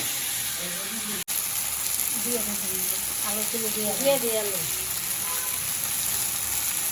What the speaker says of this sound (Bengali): এখন একটু এটা সময় নিয়ে কষে নিতে হবে নাড়াচাড়া দিতে হবে